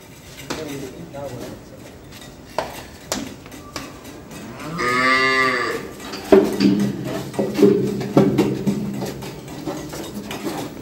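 A cow at a cattle weighing session in Bangladesh lets out one long, deep moo midway, surrounded by clanks of metal and people talking nearby.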